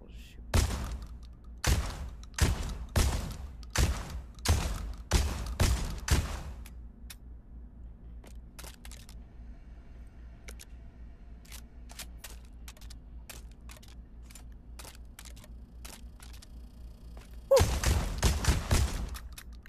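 Toy Nerf guns fire in a rapid series of about seven close, sharp pops, fall quiet for a long stretch, then let off another quick burst at the end.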